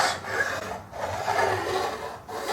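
A metal file works slowly and evenly across guitar frets, crowning and smoothing out gouges, a close continuous rasping scrape in long strokes with short breaks between passes.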